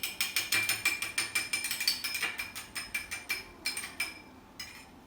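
Egg being beaten in a bowl with a fork or whisk for egg patties, a quick steady run of clinking, scraping strokes, close and clear, slowing slightly toward the end.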